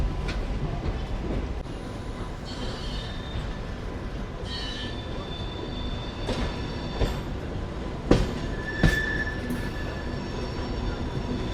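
A seven-coach MEMU passenger train from Secunderabad rolls along the rails with a steady rumble, clickety-clack of wheels, and a few sharp squeals and metallic clanks, heard from inside the coach.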